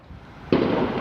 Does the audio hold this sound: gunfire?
yes